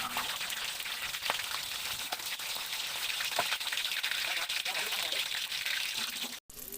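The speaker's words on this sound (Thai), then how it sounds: "นำผักมุ้งที่คลุกแป้งแล้วลงไปทอดเลยค่ะ ใช้ไฟกลางนะคะ" Batter-coated water spinach deep-frying in oil over medium heat, giving a continuous close, loud crackling sizzle with scattered pops and a brief dropout near the end.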